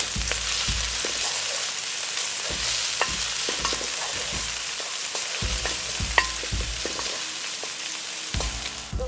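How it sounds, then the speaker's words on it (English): Ginger and garlic sautéing in a tablespoon of hot cooking oil for mapo tofu: a constant close sizzle with frequent sharp spatula scrapes and taps against the pan, without any talking. "Heat up 1 tablespoon of cooking oil, and then add in the ginger and the garlic. Saute it until it's fragrant."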